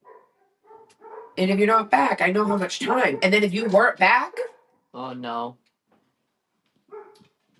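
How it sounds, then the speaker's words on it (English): Dogs bark in brief bursts near the start and again late, mostly masked by close loud talk from a speaker in between. "Sorry for the dogs."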